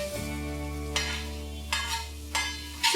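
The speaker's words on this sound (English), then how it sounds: "I'm going to sear the meat for 3 to 4 minutes" Boneless chicken sears in onion and tomato paste in a pan for tawa pulao, a steady sizzle running throughout with a few louder bursts of stirring scrapes, close and alone without talk.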